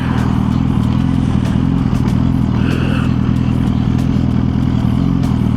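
A motorcycle engine running in second gear during a city ride in San Antonio, a loud, steady low drone with a constant rumble and wind roar throughout, with no speech.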